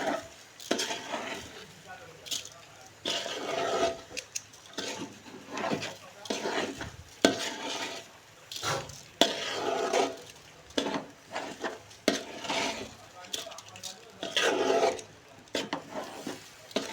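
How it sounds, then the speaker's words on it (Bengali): A mixture is stirred and fried in a pan, repeated rhythmic scraping and rasping strokes of a utensil against the pan, close up, with a person speaking between strokes. "এইবার এর সাথে একটা ভালো করে মিক্সড করতে হবে। এক প্রকার একটু ভাজা ভাজাই হবে"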